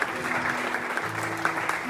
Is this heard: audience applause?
yes